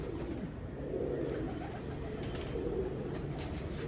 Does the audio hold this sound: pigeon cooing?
yes